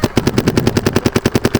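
A newest-model paintball gun fires a fast, steady string of about fifteen sharp, close, loud shots with an even rhythm and no talking.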